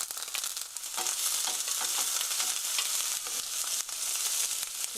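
Chopped onion, welsh onion and bell pepper stir-frying in a pan for bread pizza, with a continuous bright sizzle broken by frequent scraping and stirring clatter, close and steady.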